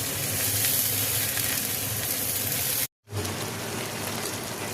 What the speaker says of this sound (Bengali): আস্তে আস্তে গ্যাসটা একটু কম করে দিয়ে কষিয়ে কষিয়ে রান্না করবো